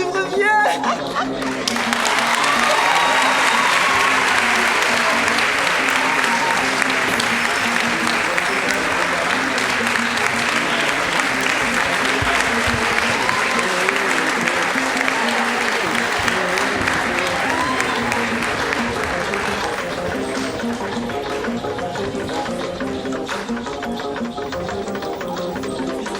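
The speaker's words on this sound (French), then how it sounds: "On applaudit très fort pour ma Mabignat" Audience at a school festival finale giving loud, sustained applause that swells quickly and holds for a long stretch before easing slightly, dense clapping with crowd noise mixed in.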